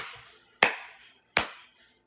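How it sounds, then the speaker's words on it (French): Two sharp, isolated hand claps ring out about three-quarters of a second apart in a quiet room, each with a short decaying echo. "ben je peux toujours applaudir"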